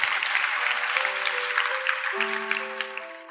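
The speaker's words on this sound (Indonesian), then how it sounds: "Ya kasih tepuk tangan dong untuk Tuhan Yesus" Dense applause from a church worship audience at a prayer festival fills the space, a continuous patter of many hands. Sustained keyboard or organ tones ring underneath and shift pitch partway through.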